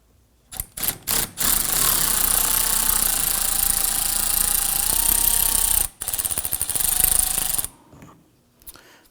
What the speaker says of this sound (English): use our impact driver to go ahead and loosen the nut